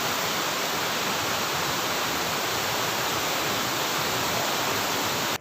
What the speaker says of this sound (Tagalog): Ayan ang falls sa taas